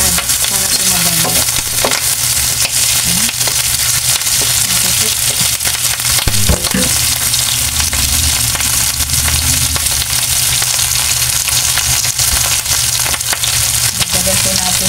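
Boiled chicken feet being stirred in a hot pan for coconut-milk chicken feet with papaya, giving a continuous close sizzle with scraping, clattering stirs throughout and no talking.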